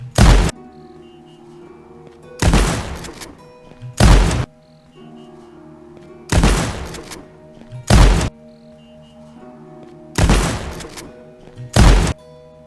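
A shotgun fires in an online multiplayer video game, heard as loud, booming blasts arriving in close pairs that repeat three times over a low background hum.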